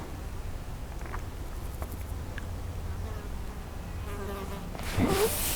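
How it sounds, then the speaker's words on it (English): Small flying insects buzz beside a canal on a July day, with faint intermittent whines passing close over a soft outdoor background, and a brief louder rustle near the end. "there's a lot of insects about"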